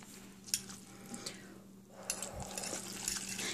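Spicy Korean fire noodles are stirred with a fork or chopsticks, giving soft, close, wet slurping and scraping noises with a few light clicks against the container, quiet and brief.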